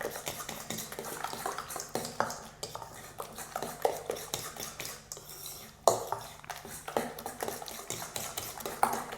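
A spoon stirs lentil bread batter in a bowl, giving soft, irregular scraping and clinking at close range with quiet pauses in between.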